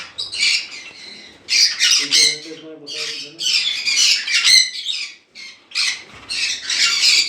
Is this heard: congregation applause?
no